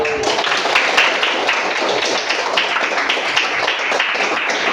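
Classroom of students clapping hands at the end of a lesson, a loud, dense, even patter of many claps close by that continues steadily throughout.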